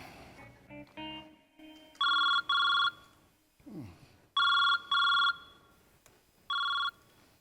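A telephone rings in three bursts of paired electronic trills, loud and close against a quiet room, with a few soft tones and faint sounds between the rings.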